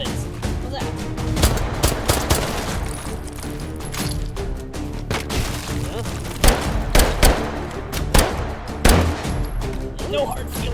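Rapid gunfire rings out in the VR shooter H3VR during a dark Take & Hold round, with dense bursts and several sharper, louder shots near the end.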